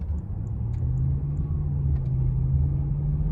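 Cabin road noise inside a 2004 Lexus LS430 cruising on the highway at speed: a steady, quiet low rumble of engine and tires that holds evenly throughout with no talking.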